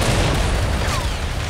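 A grenade explosion in Halo: Combat Evolved, a loud, sustained booming blast that fills the whole short moment with rumbling noise.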